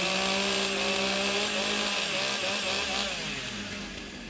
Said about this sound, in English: Warm up the saws.